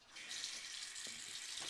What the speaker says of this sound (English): that's not really great water pressure